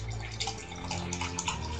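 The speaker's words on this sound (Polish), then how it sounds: "Słuchać jak nalewam sok?" Juice poured into a glass, a steady liquid splash and trickle running the whole time under a low background hum.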